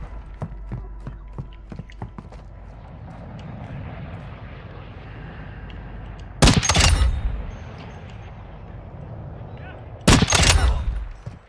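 Video game gunfire comes in two loud, sharp bursts of rapid shots, one after the other with a pause between, over a droning aircraft-like engine hum and scattered lighter clicks.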